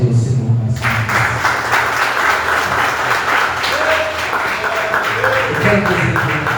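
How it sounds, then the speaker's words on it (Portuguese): Church congregation applauding, a dense steady wash of clapping from many hands filling the room, with a voice and some musical tones faintly underneath. "eu convido a você a aplaudir o Senhor mais uma vez"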